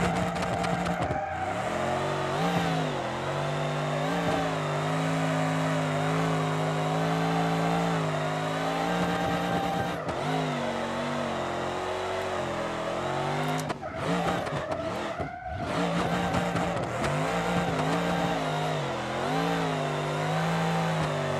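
A car engine in BeamNG.drive on a Roadkill Projects build, revving hard and steadily for over twenty seconds with a loud, continuous droning tone that rises and falls, briefly dipping twice before climbing again.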